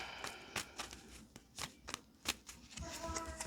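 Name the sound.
shuffling tarot cards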